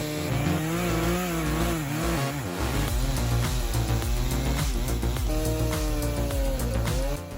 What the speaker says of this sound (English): The skilled logger starts his chainsaw.